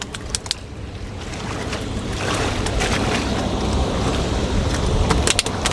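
A passing ferry's wake washes and churns over open water, a broad continuous rush that slowly builds, with wind buffeting the microphone and a few sharp knocks.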